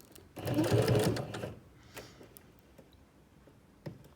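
A sewing machine stitches sew-on Velcro for a protective iPad mini cover: a loud, close burst of rapid stitching lasting about a second, then quiet with a few faint clicks.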